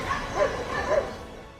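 An Indian-breed dog, a Rampur or Mudhol hound, gives a few short, fairly close bow-wow barks and yips in quick succession, with no talk over them.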